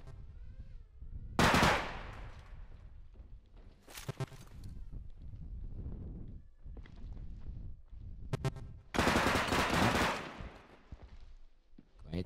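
Gunfire from a tactical shooter video game, with loud bursts of rapid shots in separate clusters and quieter rattling and movement sounds between them.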